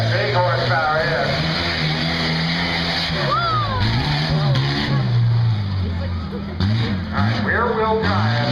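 A 1988 Chevy S10 rear-wheel-drive race truck with a big-horsepower engine runs at a Pennsylvania drag strip, Buck Motorsports Park. A loud, steady low engine drone with rising revs holds throughout beneath an announcer's voice over the PA.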